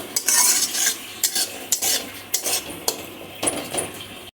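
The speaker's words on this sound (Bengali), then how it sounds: "কুলি নাড়াচাড়া করে তারপর এটাকে শুকনো করে নেব।" A utensil stirs bottle gourd leaf paste in a pan, giving close, irregular scraping and clinking strokes with brief gaps between them.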